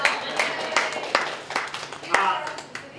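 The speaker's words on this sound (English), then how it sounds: "Can we give a big round of applause for that?" Audience at a public transit discussion event in Hamilton gives scattered, uneven clapping with a few sharp individual claps, while a voice talks over it.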